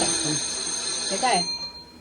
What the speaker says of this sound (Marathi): जोरात आलाय फोन कोणाच